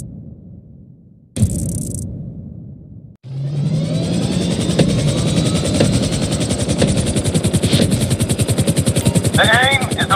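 A helicopter in GTA 5 Online descends toward a moving trailer, its loud steady rotor thump and engine whine filling the scene after a brief cut, with a high tonal sweep near the end.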